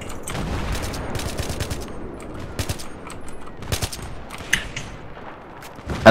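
AN94 rifle fire in Battlefield 3 on the Canals map, rapid bursts of close shots and scattered distant gunfire throughout, loudest near the end.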